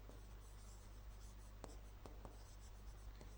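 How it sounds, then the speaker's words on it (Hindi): Pen or chalk scratches as a teacher writes on a board during a class on crops, with faint strokes and taps over a constant hum in the room. "इन यहाँ लिख रही हूँ मैं ऊपर"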